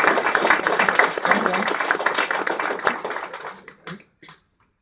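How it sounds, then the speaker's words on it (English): Guests at a wedding ceremony give a loud, full round of applause with dense clapping from a close crowd. It thins into a few scattered claps and stops. "Round of applause, I think,"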